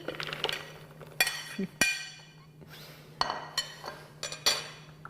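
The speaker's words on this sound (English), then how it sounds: "I'm going to add the cranberries. Now these happen to be frozen." Frozen cranberries drop into the bowl of a Cuisinart DLC-8SY Pro Custom 11-cup food processor, making a series of hard, uneven clinks and clattering knocks in quick bursts, close by.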